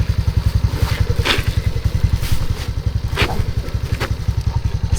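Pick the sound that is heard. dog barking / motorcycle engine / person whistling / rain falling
motorcycle engine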